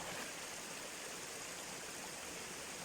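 Steady flowing stream water, a continuous even rush of trickling and babbling with no pauses, moderately close and alone without voices.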